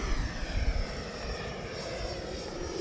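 A Horizon Hobby RC jet climbs out after takeoff with a steady, loud whooshing engine roar. The smooth rushing tone holds without a break.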